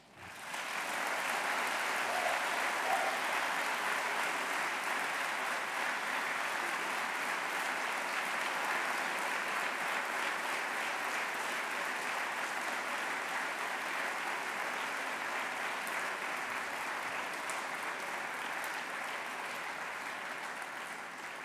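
Sustained audience applause at a 2009 Ignatian Family Teach-In for Justice gathering, a dense, steady wash of many hands clapping for over twenty seconds, holding loud before easing slightly toward the end.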